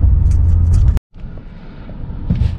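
A 2020 Hyundai Creta with a DCT gearbox accelerating, a loud low engine rumble that cuts out abruptly for a moment, then rebuilds as a steadier, quieter drone.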